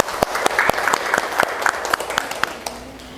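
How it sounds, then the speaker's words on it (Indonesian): Applause from a classroom audience after a group presentation, a burst of clapping with sharp individual claps standing out, steady for a few seconds then thinning as it fades. "Berikan aplaus dulu."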